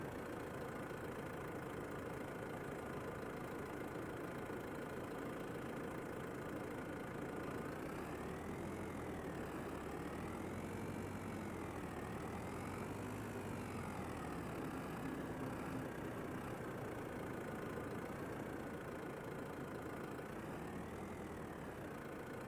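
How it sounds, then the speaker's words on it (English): A farm manure spreader runs in a winter farming simulation game, giving a steady mid-low engine drone with a wavering mechanical whine that rises and falls, constant and fairly faint throughout. "let's see how this new spreader works"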